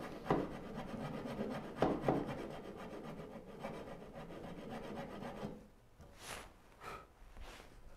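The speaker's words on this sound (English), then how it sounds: "Because the more I can chisel out, the faster this will go." Hand tools work wood while cutting out a Moxon vise, giving repeated rasping, scraping strokes close by, with a couple of sharper hits early on and quieter scrapes near the end.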